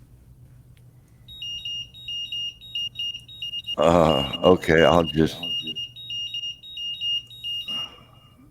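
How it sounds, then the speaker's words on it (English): A battery charger for an FPV quadcopter gives a repeated series of high, thin electronic beeps in an even rhythm, partly covered when people talk briefly in the middle. "Oh, that's your charger beeping, it sounds like."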